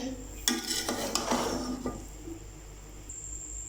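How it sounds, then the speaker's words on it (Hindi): Cooked white chana pulao rice stirred and mixed in a pot after resting, several scraping and clinking strokes of a spoon against the pan in the first half, then near quiet, with no talking. "सबसे पहले हम इसको अच्छी तरह से मिक्स करेंगे"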